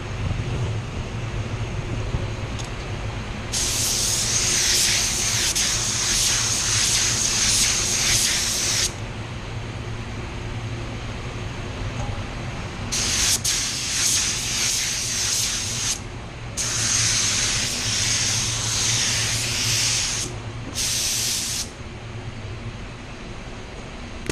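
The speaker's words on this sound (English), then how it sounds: "I'm going to put just another coat on there." A paint spray gun applies another coat to a plastic car bumper in several long hissing bursts separated by pauses, loud and close against a low background hum.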